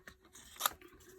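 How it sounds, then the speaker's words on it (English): Scissors snipping around paper while making a one-off greeting card, a single close, crisp cut amid faint rustling, quiet and with no talk. "you can just quickly paper snip around it"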